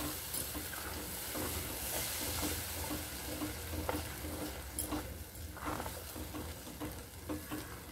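Cashew paste, poppy seeds and yogurt fry in a pan with a steady, close sizzle and hiss, broken by the scrape and patter of stirring throughout.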